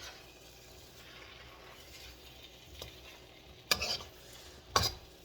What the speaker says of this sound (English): So let's just start stirring this around.